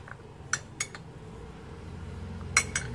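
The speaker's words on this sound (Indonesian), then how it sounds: "Nih, kita masukkan 1 sendok akan mentega, lalu kita aduk" Metal spoon clinking against a bowl while stirring butter into sweet corn, several light scattered taps and scrapes with quiet pauses between them, close and soft, no voices.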